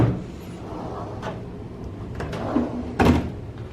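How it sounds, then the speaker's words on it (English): A hotel room drawer at Lake Conroe Margaritaville opening and closing, a few short wooden knocks and slides, the last one louder, close by in a quiet room. "have drawers right here."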